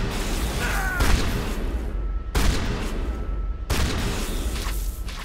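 Three heavy shotgun blasts from the video game Mass Effect boom at regular intervals, each a loud sharp burst followed by a short decaying rumble, with game sounds between them.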